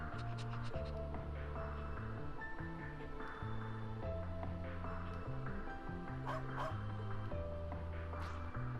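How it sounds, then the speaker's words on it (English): Game dog from Trails into Reverie barking in short yips over steady background music, the barks moderately close but partly buried in the score, with a few sharper high accents near the end. "Oh look, cutie doggy."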